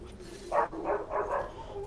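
Several dogs in the Fortnite video game bark in three or four quick muffled barks at moderate distance, with faint game background beneath.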